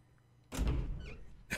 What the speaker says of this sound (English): The suspense of the door.